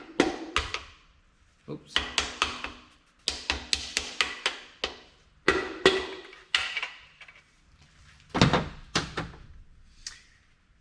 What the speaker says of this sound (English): Take your mallet, make sure everything is down and flat.